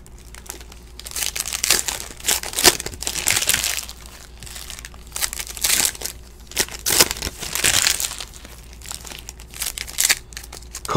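Foil packs of 2017 Donruss Optic football cards are torn open with continuous crinkling and sharp ripping bursts, close and fairly loud across the whole stretch.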